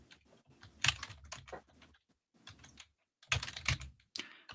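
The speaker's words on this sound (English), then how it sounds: "So you guys can see me and my typing mistakes." Typing on a computer keyboard, with bursts of close, clicky keystrokes separated by brief pauses, fairly quiet and with no voices.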